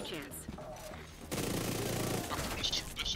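Gunfire in The Division 2 during an incursion mission, a dense sustained burst of shots rolling on for about two seconds after a stretch of talk, with voices speaking around it.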